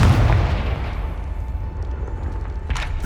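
Confringo blasting spell going off in Hogwarts Legacy, a loud booming burst at the start that rolls into a rumbling decay, with a faint crackle near the end.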